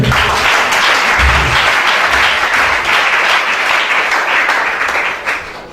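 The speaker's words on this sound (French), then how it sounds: "Acclame bien, acclame bien." A church congregation applauds loudly and continuously, a dense wash of clapping that fades slightly at the end.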